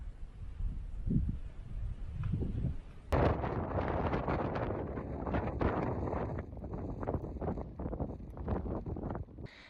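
Wind gusting on the Pacific Crest Trail, a steady rough rumble buffeting the microphone that grows stronger partway through and stays close and continuous, with faint rustling underneath.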